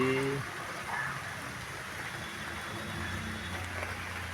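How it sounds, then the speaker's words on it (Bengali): Steady rain from a low-pressure system falls around a house with trees and a field, a continuous soft hiss at moderate distance with a brief low hum early on. "নিম্নচাপের বৃষ্টি"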